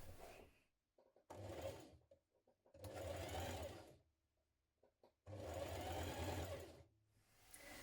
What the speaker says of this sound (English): we're going to sew a line of feature top stitching around the front